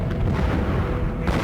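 Fireworks bursting over Lima, Peru, during the December-to-January holiday season, heard as a dense, continuous booming rumble that stays loud throughout, with no clear gaps between blasts.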